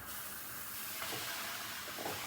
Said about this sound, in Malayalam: ഇനിയിപ്പോൾ നമ്മൾ അതിലേക്ക് നമ്മുടെ മീൻമുട്ട ഇടാൻ പോവുകയാണ്.